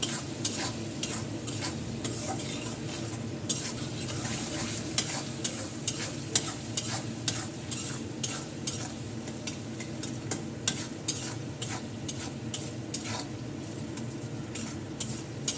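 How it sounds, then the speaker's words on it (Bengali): Bitter gourd with shrimp stir-frying in a pan, a continuous close sizzle broken by frequent scraping and clinking strokes of a utensil against the pan. "তারপরে করলাগুলো দিয়ে দেবে করলাগুলো দিয়ে একটু ভাজা ভাজা করবেন"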